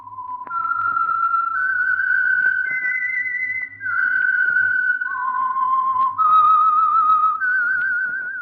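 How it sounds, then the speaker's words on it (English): A lone, clear whistled melody serves as the opening signal of The Whistler radio mystery program, moving through sustained, wavering tones that step up and down in pitch, crisp and upfront. "That whistle is your signal for the Signal Oil Program, The Whistler."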